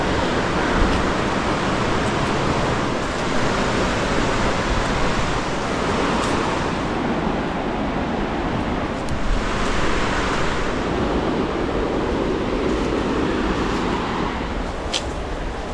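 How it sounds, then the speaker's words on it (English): A small water trickle beside a trail in Linville Gorge gives a steady broadband rush, close and continuous, blended with wind noise on the microphone. "there's this little trickle here"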